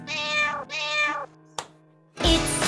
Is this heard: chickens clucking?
no